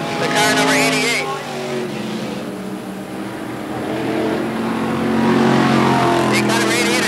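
Race car number 88, driven by Johnny Horning at Can-AM Speedway in 1989, keeps up a loud, sustained engine drone that rises slightly toward the end, with an announcer speaking over it.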